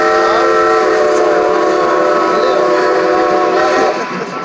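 Strasburg steam locomotive No. 90 pulling an old-fashioned passenger train sounds a long, loud, steady chime whistle for about four seconds over rumbling wheels and track noise, then the whistle cuts off.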